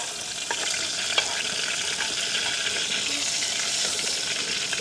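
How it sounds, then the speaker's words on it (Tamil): Mustard and fennel seeds crackle in hot coconut oil, a loud dense close sizzle running steadily throughout with small pops. "எண்ணெய் வந்து கொதிச்சிட்டுது. நாங்கள் கடுகும் பெருஞ்சீரகமும் போடுவோம்."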